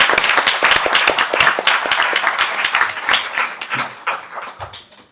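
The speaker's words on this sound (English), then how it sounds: "A big applause again for everybody of you that you are still." Conference attendees at an international copyright congress give loud, close applause, a dense burst of individual claps that gradually thins and tapers off toward the end.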